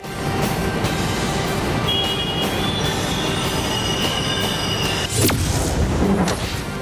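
A Bengaluru Namma Metro train on a BMRCL trial run moves along the track with a loud, steady rumble, then a sharp wheel squeal rises near the end.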